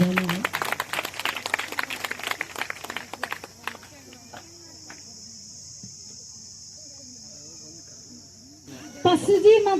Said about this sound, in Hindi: अपने तालियों को बजाना है।